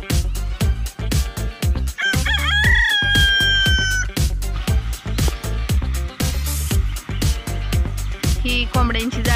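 Hens cluck and a rooster crows among free-range chickens in a netted farm enclosure, scratching over poultry manure; the bird calls sit close and clear over a steady run of rhythmic, repeated beats.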